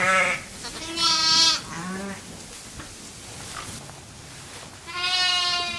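Texel and Vendéen sheep on a farm bleat in several loud, close, wavering calls, one after another with short gaps, a farmyard hush between them and no talk.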